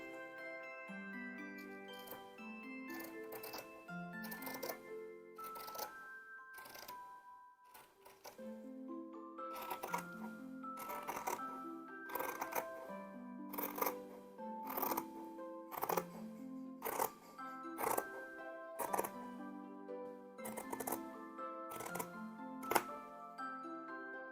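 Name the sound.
cutting fabric with scissors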